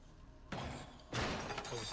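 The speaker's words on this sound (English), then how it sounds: "Boxes and broken glass." Boxes crash and glass shatters in the 2018 Spider-Man video game, two loud sudden bursts of breaking and clattering debris, the second heavier and longer.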